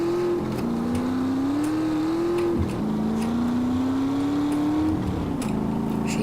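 A motorcycle engine in GTA San Andreas drones steadily, its pitch climbing through gears, then dropping with each shift before rising again.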